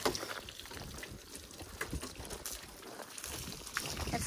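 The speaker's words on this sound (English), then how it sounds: "Sprinkle water up on the top." Water sprays onto a car at a car wash, a rough, hissing rush that keeps going throughout with small surges and splashes and no talking over it.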